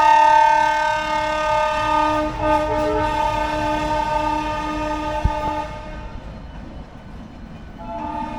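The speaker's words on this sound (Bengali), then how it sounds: "রাজধানী ঢুকছে, হাওড়া রাজধানী এক্সপ্রেস।" The Howrah Rajdhani Express sounds a long, loud multi-tone horn as it pulls into a station, the horn blaring for several seconds before cutting off. Rolling rail noise and a sharp clank follow, then a brief second horn blast at the end.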